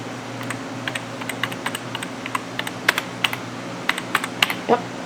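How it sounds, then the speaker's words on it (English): Keys clack irregularly on a computer keyboard attached to a 2003 Apple Power Macintosh G5, sharp close taps scattered over a steady fan hum. "Yep, keyboard is working just fine."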